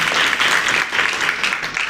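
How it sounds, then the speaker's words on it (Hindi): A crowd at a memorial assembly for a martyr bursts into loud, dense, sustained applause that fills the whole moment. "साक्षी वर्मा के लिए जोरदार तालियां होनी चाहिए"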